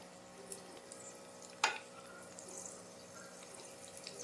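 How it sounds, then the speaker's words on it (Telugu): Vermicelli and cashews fry in ghee in a pan over medium heat, giving a soft, steady sizzle with faint stirring scrapes and one sharp clink partway through; no one speaks. "నెయ్యి యాడ్ చేసుకొని సేమియా జీడిపప్పు వేసుకొని ఫ్రై చేసుకోవాలండి"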